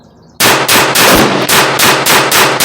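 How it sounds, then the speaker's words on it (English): A Walther P22 .22 pistol fires a rapid string of shots at a 25-yard range, roughly eight sharp, loud cracks in quick, even succession after a short quiet lead-in. "I'm gonna allow myself to do 10 rounds of rapid fire."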